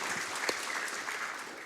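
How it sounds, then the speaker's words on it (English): An audience at the Summer Games Done Quick 2023 speedrun event breaks into brief, fairly quiet applause, a steady patter of many hands clapping. "Let's clap for that."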